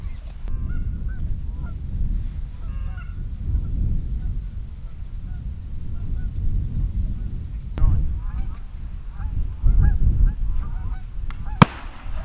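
Geese honk on open water during an early-season goose hunt in North Dakota, a scattered flock calling at moderate distance over steady low wind rumble, with one sharper close call near the end.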